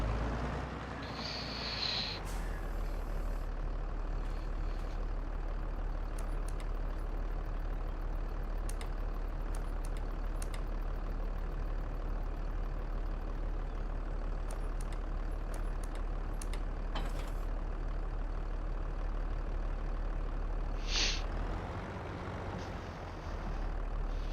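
A farm tractor engine idles steadily for the whole stretch, a constant low rumble close by with a few brief mechanical clanks and hisses.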